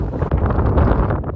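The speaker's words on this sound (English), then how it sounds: "Should be nice and windy." Strong wind on an open hilltop buffets the microphone in a brief, loud, gusty roar with uneven surges, and no voices are heard.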